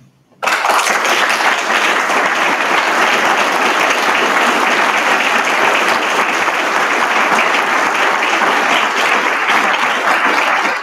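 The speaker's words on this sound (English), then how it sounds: "let's give them a round of applause." Audience at a memorial ceremony for the 48th anniversary of the Edmund Fitzgerald sinking applauds veterans, sustained loud clapping starting abruptly and continuing evenly for about ten seconds.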